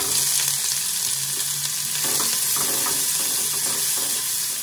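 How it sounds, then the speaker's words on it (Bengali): Chopped onions hit hot oil in a pan and fry with a loud, steady sizzle, joined by a few scraping stirs partway through; no one talks. "এবার পেঁয়াজ কুচিটা দিয়ে দিচ্ছি।"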